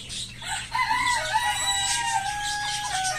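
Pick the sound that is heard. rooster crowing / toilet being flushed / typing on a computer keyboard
rooster crowing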